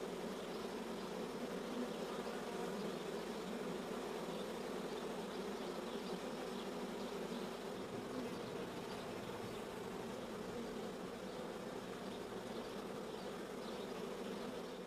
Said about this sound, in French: Entre-temps, l'essaim s'est fixé sur un arbre, attendant que les ouvrières éclaireuses aient trouvé une cavité susceptible de les accueillir.